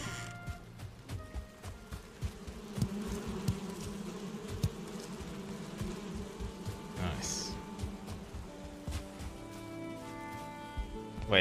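Bees buzz steadily in the Valheim video game, a continuous insect drone under constant game noise with scattered clicks and a voice talking over it.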